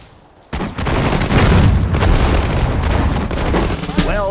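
Infantry gunfire in the Sudden Strike 4 World War II strategy game, Operation Overlord: dense, loud overlapping rifle and machine-gun fire bursting in after a brief quiet lead-in and rattling steadily, with booms mixed in.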